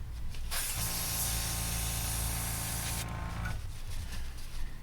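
A steady, close hiss of blue paint spraying onto an HG MS-07B Gouf model kit runs for about three seconds, then cuts off, leaving quieter background noise.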